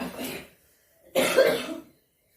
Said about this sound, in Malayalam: ചുമയെന്ന് പറഞ്ഞാൽ വല്ലാത്തൊരു ചുമയാണ് കേട്ടോ